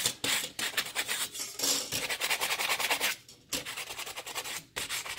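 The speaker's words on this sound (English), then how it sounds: "just gonna get this sanded back a little bit" Sandpaper rubbing back a painted tin ceiling tile to age it, a steady close raspy scrubbing in repeated strokes with brief pauses, no voices.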